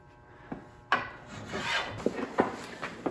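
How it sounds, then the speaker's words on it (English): Spokeshave shaving wood from the belly of a white oak recurve self bow, a run of close, scraping strokes with sharp attacks, some soft and some crisp, with no talking. "Just using my SpokeShave."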